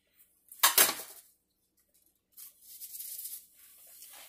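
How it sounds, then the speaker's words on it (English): A serrated knife slices through a cake, giving one short, close scraping burst against the board, followed after a pause by a softer, longer rasping stretch of cutting. "So now we're going to split it in half with my serrated knife."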